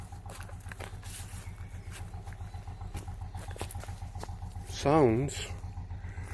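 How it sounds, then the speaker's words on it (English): An old two-stroke boat engine approaches with a low, steady, rhythmic chugging throb that runs the whole time, while a person speaks briefly over it. "like an old two-stroke coming up"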